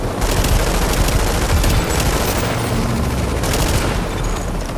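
Dense, sustained gunfire bursts from a multiplayer firefight in Tom Clancy's The Division, loud and continuous like a fusillade with no talking.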